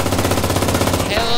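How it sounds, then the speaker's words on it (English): Rapid, sustained machine gun fire in a World War II shooter game (Enlisted), bursts evenly spaced and loud, running continuously before easing off near the end. "Look at this machine gun emplacement."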